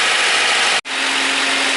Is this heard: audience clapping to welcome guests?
no